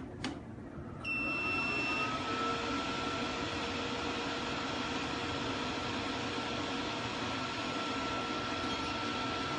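An FBL Reskin needle injector machine powers on with a short click, then settles into a steady, close mechanical hum with faint high tonal whines running throughout.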